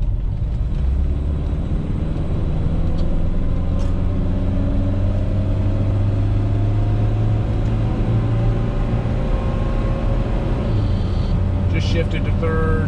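A 1974 BMW 2002 pulls up a freeway on-ramp, its engine droning steadily with a low rumble that climbs in pitch through the gears, under continuous road and wind noise, close and loud from inside the cabin.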